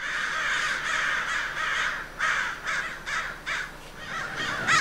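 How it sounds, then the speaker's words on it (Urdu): A crow caws repeatedly, a steady run of harsh, clipped calls at a moderate distance, about ten in quick succession with no voices present. "کوے کی آواز کا کا کرتی رہتی ہے خالی، جس کو ہم"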